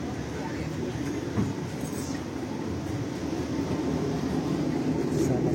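Steady rumble and rolling noise inside an executive carriage of the Argo Muria New Generation train in motion, a constant close hum with faint rail clatter beneath.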